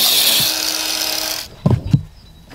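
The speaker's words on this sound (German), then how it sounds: "Schneid deshalb einen 5 cm breiten Streifen mit dem Winkelschleifer ein." An angle grinder fitted with a blade cuts a shallow strip into facade plaster, a loud high whining grind for about a second and a half, then it stops and a few knocks follow.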